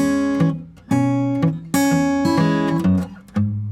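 Fingerstyle electric guitar picks out a phrase in E6, with crisp plucked notes and bass-and-melody patterns ringing in a steady, lilting rhythm. It plays alone and close up, with no talking.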